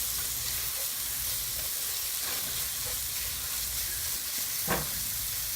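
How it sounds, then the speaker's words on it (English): Carrot halwa cooks in a pot with a soft, continuous sizzle and hiss. Faint stirring scrapes come through, with a sharper scrape near the end. "just give it a stir."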